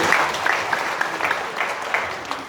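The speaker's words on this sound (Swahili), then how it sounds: "Pigia Bwana makofi anapokuja." A church congregation at PEFA Kikomba claps together in praise of the Lord, a moderately loud, fairly rhythmic run of clapping with a faint voice or singing beneath it.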